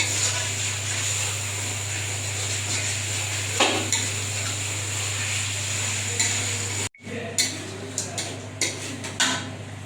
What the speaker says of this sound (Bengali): দেখুন, আমি মাংসটা কষাই নিচ্ছি।